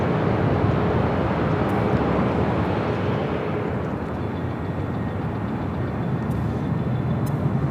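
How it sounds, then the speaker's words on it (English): A nine-year-old Frontier Airlines A320 in the Sammy the Squirrel livery, arriving at LAX from Phoenix, makes a steady, loud broadband jet roar that holds level throughout. "Our next arrival is Sammy, the Squirrel livery, Frontier Flight 3303, coming in from Phoenix on this 9-year-old A320."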